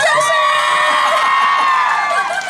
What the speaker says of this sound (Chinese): 再来点尖叫声，尖叫声